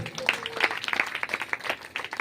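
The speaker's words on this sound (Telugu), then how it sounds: "చప్పట్లు కొట్టండి ఒకసారి" A church congregation gives a short burst of scattered clapping during a sermon, with sharp uneven hand claps for about two seconds and no clear speech.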